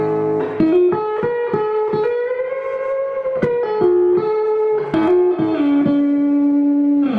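Electric guitar played through a Lil Teapot treble booster, a modified Rangemaster clone, with the volume knob fully up: a bright, slightly gritty melodic line of plucked notes and bends, played alone with a touch of reverb.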